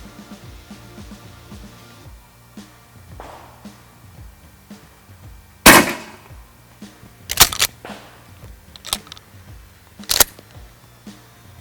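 Rubber-bullet gun shots fired at a banana tree outdoors, several sharp loud cracks spaced a couple of seconds apart, with quieter clicks and handling noise between them and no talking.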